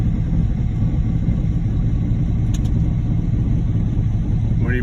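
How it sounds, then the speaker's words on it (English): Concrete pump truck on a job site at the start of a concrete pour, its engine running at a steady low rumbling idle, loud and continuous with no talking. "Give you guys a different shot of the pump truck."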